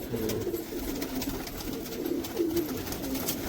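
Many pigeons coo together in a large backyard flock kept by a pigeon fancier in America, producing a soft, continuous murmur of overlapping calls with no clear pauses.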